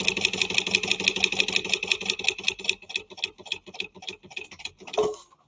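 A sewing machine stitches vinyl with a 3/8 inch seam allowance, making a rapid, even, close mechanical tick that slows and thins out near the end before a final clunk.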